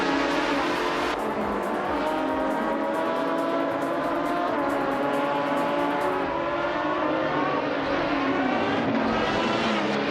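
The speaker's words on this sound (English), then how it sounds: "Billy is driving a 1998 TV R-Speed 12 GTS, which is known for its raw power and aggressive handling" Sustained engine roar of a 1998 TVR Speed 12 GTS race car in a racing video game, loud and continuous with shifting pitch as it revs, brief tire squeal hints, no talking.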